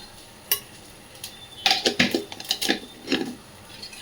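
A spoon tips masala into frying egg bhurji and stirs it through, with sharp metal clinks and scrapes against the pan in irregular bursts over a faint background sizzle.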